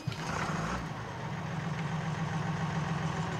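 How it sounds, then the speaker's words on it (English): A tractor engine in Farming Simulator 19 idles with a steady low rumble and a continuous mid-range drone after a brief louder burst at the start, holding at an even volume throughout. "Maybe it just has a loud startup. It's not a bad sound for the tractor."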